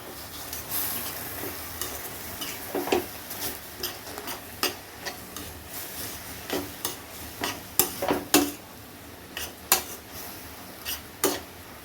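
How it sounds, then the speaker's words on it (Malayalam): Spatula stirring egg, greens and spice powders in a pan while cooking a leafy stir-fry, with irregular scraping clicks over a soft steady sizzle, close and alone. "ഇത്രയും ചേർത്തിട്ട് ഇത് ഇളക്കി മുട്ടയും ഇലയും ഈ പൊടികളും കൂട്ടി നല്ലോണം ഇളക്കിയെടുക്കുക"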